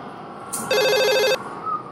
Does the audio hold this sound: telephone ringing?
yes